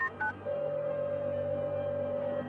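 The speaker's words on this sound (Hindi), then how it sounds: "प्रकाश कपूर ने साहिल को फोन किया" Two quick telephone keypad tones, then a long steady dial-style tone holding for about two seconds, clear and close.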